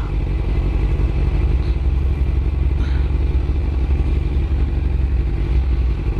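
Steady motorcycle engine drone while riding, loud and continuous throughout, with wind rumble and no talking.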